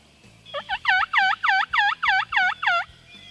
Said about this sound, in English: And he gobbled again.